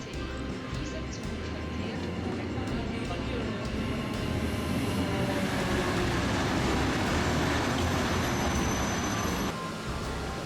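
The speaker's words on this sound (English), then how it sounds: "enjoying the arrival of a picturesque train before we leave" A picturesque train pulls into Interlaken Ost station in Switzerland, a continuous loud rolling rumble with wheel and rail noise and a faint high squeal near the end.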